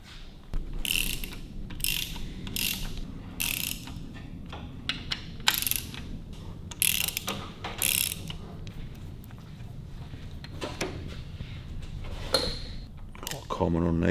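A ratchet cracking loose cylinder head bolts on a Buick engine, bursts of quick metallic clicking come in short runs with pauses between them, close by, with a voice talking faintly underneath.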